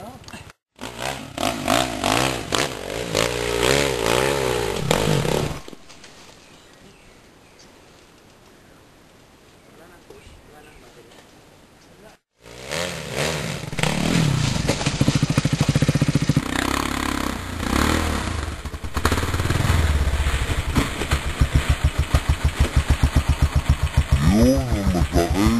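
Motorcycle engine returning on a mountain trail at Mount Lantik, revving and idling loudly up close with a quieter lull midway, then surging back while people talk nearby.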